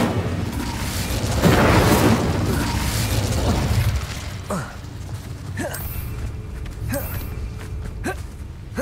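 Incendio fire spell blasts in Hogwarts Legacy: a loud, roaring fiery burst for the first few seconds, followed by quieter crackling pops and clicks. A spoken voice comes in at the end.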